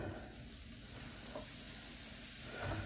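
Mushrooms sauté in a pan for a frugal suet pie filling, giving a steady, close sizzle of frying with faint stirring crackles throughout.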